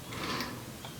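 LK150 knitting machine being worked by hand, a short close burst of soft mechanical clicking and sliding from the carriage and needles, with no talking.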